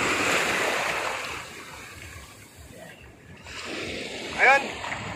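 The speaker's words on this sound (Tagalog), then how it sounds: "Ayun mga alon, mga kababayan." Ocean waves wash steadily around a boat at sea off Sibuyan island in the Philippines during a jigging trip, a broad hiss that fades midway and returns with a brief voice over it.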